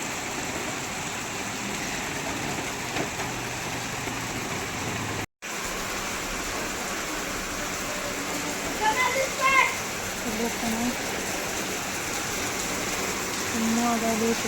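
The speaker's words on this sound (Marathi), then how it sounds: "एवढा पाऊस आहे ना की बघा पाणीच पाणी झालं सगळं" Heavy cloudburst rain in Pune hisses in a steady wash throughout, with faint distant voices and a brief dropout partway through.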